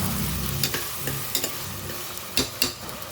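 Dry coconut and poppy seed paste fries in oil, a steady soft sizzle punctuated by several sharp scraping clicks of a spoon stirring the pan, close and fairly quiet.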